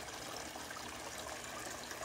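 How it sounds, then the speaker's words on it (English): A tall garden fountain fed with spring water splashes continuously outdoors, a faint steady wash of falling water with no voices. "I just want to kind of show you guys my fountain."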